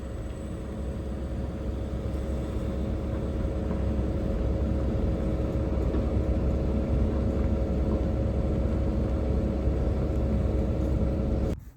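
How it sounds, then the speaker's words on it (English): A farm trailer being hauled into a field during harvest, its tractor engine a steady low rumble that holds level and fairly close throughout before cutting off abruptly at the end. "Here comes the third trailer."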